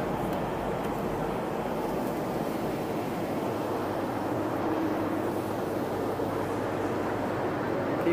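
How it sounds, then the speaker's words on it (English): Steady broadband roar inside the cabin of a Boeing 737 cruising in flight, a constant, even rush of engine and air noise with no breaks. "we are heading back to Newark Airport on this Gogo test flight 737"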